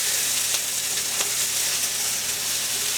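Okra, corn and tomatoes fry and brown in a hot pan, a loud, steady sizzle with small crackling pops throughout and no talking.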